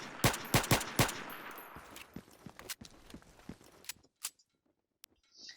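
A USP pistol fires unsuppressed in the Battlefield 2 AIX mod: a quick run of sharp, crisp shots at first, then slower, spaced reports tapering off into near silence.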